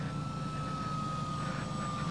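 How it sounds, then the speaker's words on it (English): A de Havilland Tiger Moth biplane flying in the setting sun gives a steady, droning engine roar with a faint whine on top, constant and unbroken, heard from inside or near the aircraft with no talk. "it's a nice fun plane, isn't it, really?"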